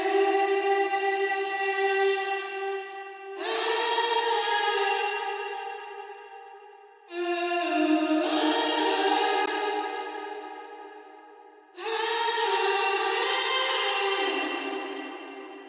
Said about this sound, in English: It's sounding like a very echoey kind of singing.